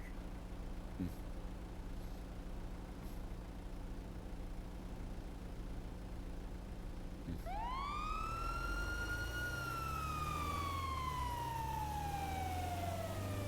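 An ambulance siren in a roleplay video game starts up partway through a code 3 run and sweeps loudly and steadily over a constant vehicle rumble, with a few faint clicks before it begins.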